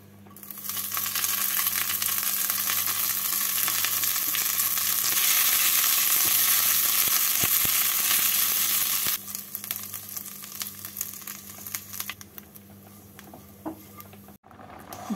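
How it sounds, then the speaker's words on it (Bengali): Neem leaves fry in a teaspoon of hot ghee in a frying pan, a loud steady sizzle that later settles lower, with occasional stirring clinks and a sharp knock near the end. "ঘিটাকে গরম করে নিয়ে এর মধ্যে নিম পাতাগুলোকে দিয়ে হালকা করে ভেজে তুলে নেব।"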